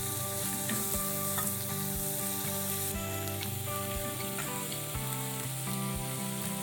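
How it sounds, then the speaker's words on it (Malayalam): Shallots and onions sauté in a pan, a bright steady sizzle with occasional soft stirring taps, mixed under sustained tonal background music. "ഇനി നമുക്കിതിലേക്ക് കൊച്ചുള്ളിയും സവാളയും ചേർക്കാം. ഇത് നമുക്ക് കുറച്ച് നേരം വഴറ്റിയെടുക്കണം."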